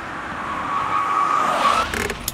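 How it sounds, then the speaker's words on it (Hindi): A car rolls up and pulls in to park near an auditorium, its engine a steady, fairly close drone that swells slightly and then eases off at the end. "गाड़ी पार्क कर दो"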